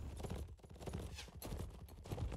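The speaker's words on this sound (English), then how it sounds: "Horse walks into the line." Faint horse hooves clopping on the ground in the Mount and Blade video game, an irregular patter of soft thuds amid a noisy battle background.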